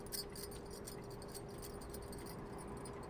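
Glass bangles, worn alongside gold and plastic ones, jingle and clink against each other on a wrist in a series of bright, quick, close chimes over a faint steady background hum.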